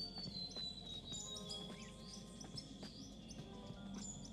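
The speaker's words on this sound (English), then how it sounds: "So I decided to add some wind noises and some birds in the background." Ambient outdoor game soundscape for a post-apocalyptic puzzle game: steady soft wind with bird chirps and insect-like trills layered throughout, faint and continuous in the background with no talk.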